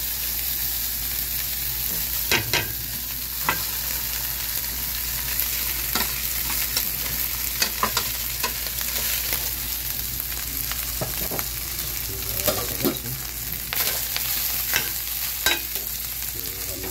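Leftover rice stir-fried with mixed vegetables and pepper in a pan, a loud, steady sizzle broken by frequent sharp clicks and scrapes of a spatula against the pan.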